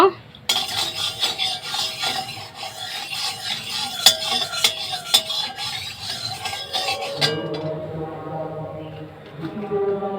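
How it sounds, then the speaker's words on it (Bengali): Potatoes being fried in a pan while a metal spatula scrapes and clinks repeatedly, followed by a steadier sizzle as stirring stops. "আমি এবারে আলু ভাজা দেব"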